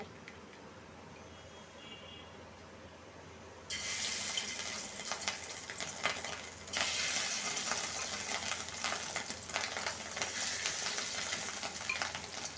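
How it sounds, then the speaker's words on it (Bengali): Fish roe fritters go into hot oil. A quiet hiss swells suddenly into a loud, bright sizzle and grows again a few seconds later, continuing steadily with faint crackles. "এবার আমি এর মধ্যে এই মাছের ডিমগুলা ভেজে নেব"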